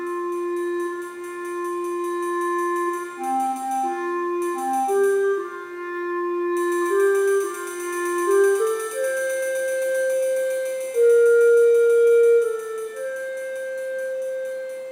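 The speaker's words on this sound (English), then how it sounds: "which is controlling the volume of the clarinet melody, and also these cymbals, how fast they're playing" A slow, legato clarinet melody driven by stream flow data, with a faint high cymbal shimmer washing steadily behind it, clear and unaccompanied by voices.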